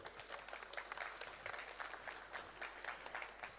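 An audience at an evening FBNBank product presentation applauds the group director general, dense steady clapping from a crowd throughout, moderately distant and even in level.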